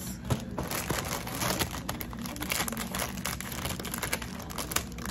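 Scissors snipping and crinkling open a plastic cinnamon cereal package at close range, a steady busy rustle of crackling film and cuts lasting several seconds with no talk.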